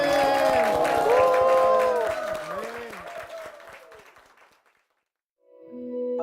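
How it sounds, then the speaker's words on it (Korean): Church congregation clapping in praise to the Lord at a Korean church service, a dense wash of applause with sustained tonal sounds over it, fading away to silence before a brief tone returns at the end. "주님께 영광의 박수 올려드리겠습니다"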